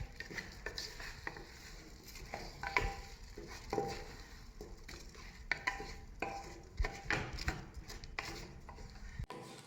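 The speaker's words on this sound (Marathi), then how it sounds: "आता हा तांदूळ परतून घेऊयात" Kolam rice sautéed in a pan for aloo bhat, quiet scraping and stirring strokes of a spatula with soft clinks and a faint sizzle, irregular and close.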